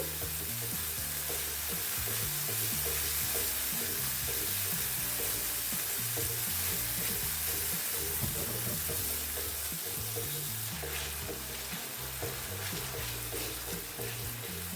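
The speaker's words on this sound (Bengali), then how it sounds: "মশলাটাকে আমি খুব ভালোভাবে কষিয়ে নেব ততক্ষণ কষবো যতক্ষণ না পর্যন্ত মশলা থেকে মশলার কাঁচা গন্ধ বেরিয়ে যাচ্ছে" Spice paste (masala) frying and being stirred in a pan for a spinach and egg curry, a dense, steady sizzle that runs without a break, with soft scraping of stirring underneath.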